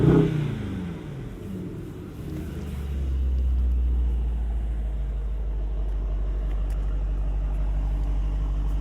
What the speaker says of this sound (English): turn on our loud exhaust mode